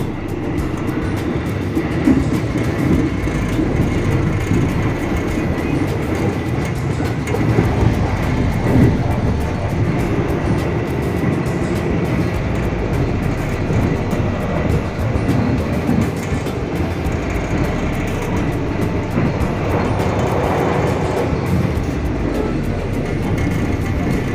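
The Jaka Tingkir economy passenger train rumbles loudly and steadily along the rails, passing Sumbio station without stopping, with a constant roar and faint rhythmic clatter throughout.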